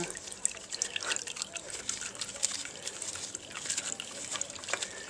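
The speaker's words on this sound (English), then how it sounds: "as you undo it, you'll get the contents of the filter just pour out" Hot engine oil pouring from a Suzuki Hayabusa oil filter into a plastic litter tray, a close, continuous trickling splatter with scattered drips and faint background sounds.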